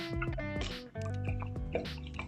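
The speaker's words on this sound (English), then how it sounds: "Then you just fill it up with some sparkling water in this case." Sparkling water is poured into a glass holding apple cider vinegar and lemon, with close, bright splashing, fizzing and dripping over about two seconds, including a brief break partway through.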